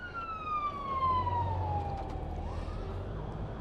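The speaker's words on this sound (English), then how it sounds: "And there's a great big fire engine coming." A fire engine siren wails nearby and falls in pitch as the vehicle passes, over low traffic rumble.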